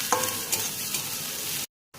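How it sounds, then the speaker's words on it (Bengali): Ginger, garlic and chopped chili sizzle loudly in a pan while being stirred, a close, bright frying hiss with a couple of scraping strokes, cutting off abruptly near the end. "তারপর আদা রসুন লঙ্কা ভাজা ভাজা হওয়া পর্যন্ত একটু ভালো করে নাড়ব।"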